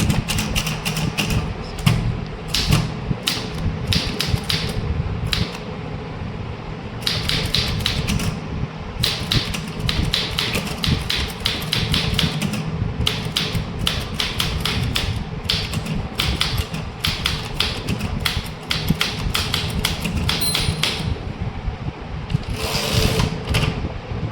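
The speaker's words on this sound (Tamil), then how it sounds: "இந்த பேராகிராஃபை டைப் பண்ணி முடிச்சுருங்க" A manual typewriter types an English official letter paragraph with dense, rapid key strikes in bursts, close and loud, broken by brief pauses and occasional carriage-return moments.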